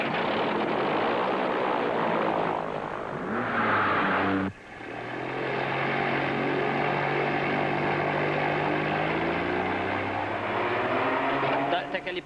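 A propeller airplane drones in flight, a steady buzzing engine tone that shifts pitch partway through and continues loudly to the end.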